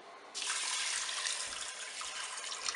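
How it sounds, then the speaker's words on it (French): Water pours steadily from a tap into a Cookeo multicooker pot holding lentils, a close, continuous rushing stream lasting a few seconds. "Je vais recouvrir d'eau"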